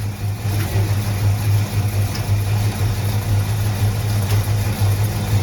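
A car engine runs steadily close by, a low even drone that holds near idle throughout with little change in pitch and no talk over it.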